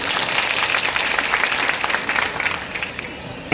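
Crowd applause welcoming a member of parliament on an outdoor stage at a public rally in a town square, dense steady clapping that stays loud throughout with a faint murmur of voices.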